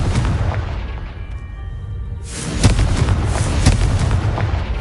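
Incendio and Confringo fire spells blast in Hogwarts Legacy: heavy booming explosions rumble, ease off briefly, then a second powerful blast erupts midway and is followed by further loud thuds and crackling bursts.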